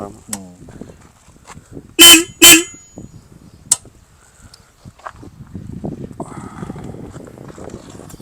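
Two short, loud horn beeps from a Royal Enfield Bullet Classic 350cc motorcycle in quick succession stand out over faint road noise, followed by a single tap and then an engine idling.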